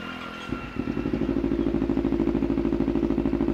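A 2013 Kawasaki Z250 two-cylinder motorcycle starts up: a brief starter whir, then the engine catches into a steady, close, rhythmic idle pulsing throughout.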